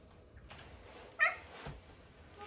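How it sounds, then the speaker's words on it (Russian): A house cat meows once, a brief faint cry at a moderate distance in a quiet room, with a second softer sound shortly after and light room noise around it. "Что это за мяу?"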